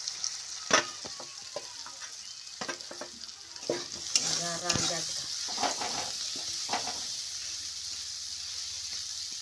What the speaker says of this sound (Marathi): आता शेंगदाणा टाकून मिरची भिजून घ्यायची त्याच्यात फराळ गरम करायचं